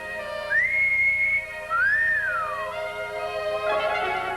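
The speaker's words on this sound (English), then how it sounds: "Nobody ever whistled at a goat in a bathing suit." A two-part wolf whistle, a rising glide followed by a rising-then-falling swoop, blown clearly and loudly with no talking, from a 1960 comedy film scene about a woman in a bathing suit.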